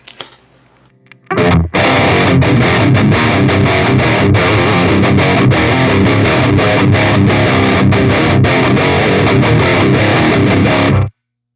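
Electric guitar played through a Line 6 Pod Express pedal with the mids turned down, a loud, dense, distorted sound with chorus-like shimmer that starts suddenly after a brief quiet moment, keeps going steadily, then cuts off abruptly.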